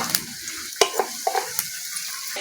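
Onion frying in oil with black cumin, a crackling sizzle broken by sharp scrapes and taps as it is stirred. The sound is close and clear, with no talking.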